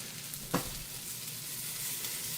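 Onions and peppers sizzle in a pan for queso fundido, a steady, close frying hiss with one brief clatter near the start and no talk.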